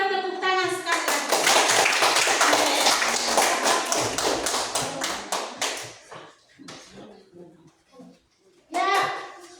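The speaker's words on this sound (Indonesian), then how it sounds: "Mari kita tepuk tangan sekali lagi." A classroom of students claps hands in a dense burst of applause that thins into scattered claps, with children's voices and a teacher speaking around it.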